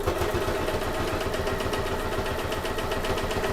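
A sewing machine stitches steadily with a blind hem foot at a lengthened stitch setting, its motor hum and rapid needle beats running continuously close up at an even, loud level with no talk.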